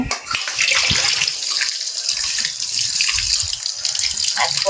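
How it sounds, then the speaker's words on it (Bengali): Rice washed in a kitchen under a running tap, a steady hiss of flowing water with splashing and stirring, close and continuous. "চাল ধুচ্ছি, চালটা ধুয়ে ভিজিয়ে রাখি"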